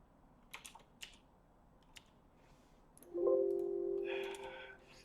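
Computer keyboard keys clacking in a few scattered bursts, then a mouse-click run, with a short tonal computer sound overlapping near the end; close and fairly quiet.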